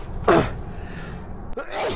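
A single sharp human sneeze bursts out near the start, followed by a quieter breathy second sneeze or exhale near the end, close and loud in a quiet room.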